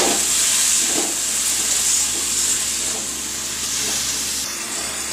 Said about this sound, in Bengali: আরও 5 মিনিটের মতো এটাকে কষিয়ে নেব